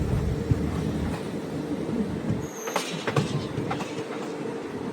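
A train at Avantipura railway station in Kashmir rumbles steadily nearby, with low rolling noise, a few sharp metallic clanks and faint squeals, no voices.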